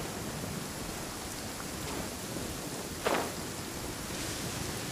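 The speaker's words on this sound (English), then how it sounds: "It always rains when I go on an adventure." Steady rain falls in Genshin Impact, a dense, even hiss of drops filling the scene at moderate loudness, with one brief brighter splash partway through and no talk.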